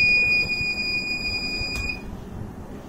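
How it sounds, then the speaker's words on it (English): The buzzer on a Raspberry Pi face-recognition door lock gives off a thin, steady high-pitched tone for about two seconds and then cuts out, leaving faint room noise. "once I press the switch, then LED will turn on and buzzer will start ringing"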